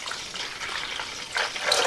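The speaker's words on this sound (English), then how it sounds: "We're going to get this poured in here." Water gushes and splashes into a coffee maker's reservoir, a steady close pour that grows louder and rougher toward the end, with no voices.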